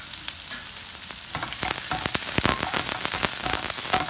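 Chopped garlic and onion frying in a pan, a dense hissing sizzle that grows louder partway through, with crackling pops and occasional stirring clicks, close and without voices.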